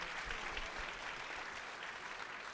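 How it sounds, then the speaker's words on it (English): Audience at a pitch competition event applauding the presenting teams, a steady, dense round of clapping heard from within the room, fairly faint and continuous. "How about one last round of applause for all the teams and the Mercury Fund and Samantha Lewis?"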